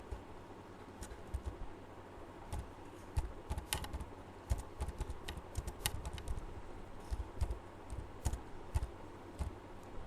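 Python code typed on a computer keyboard, with rapid, irregular key clicks in bursts, faint and close, and no talking.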